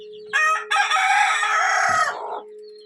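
A native country hen, a brooding desi chicken, gives a loud close-up run of crowing and clucking calls that lasts about two seconds, with a short pause near the start and nothing else behind it.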